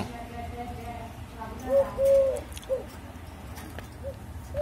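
An emerald dove utters a couple of soft, low coos in the middle of the recording, faint over a quiet background hiss.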